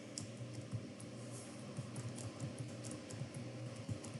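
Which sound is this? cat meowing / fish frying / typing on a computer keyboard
typing on a computer keyboard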